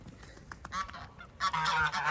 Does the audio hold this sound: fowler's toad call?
no